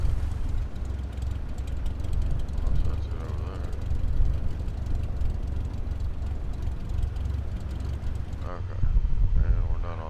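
Aircraft engine at full takeoff power in Microsoft Flight Simulator 2024, a loud steady low roar that fills the whole stretch, with a voice talking over it near the end.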